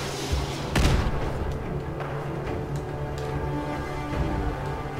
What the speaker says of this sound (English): One of them has a missile launcher.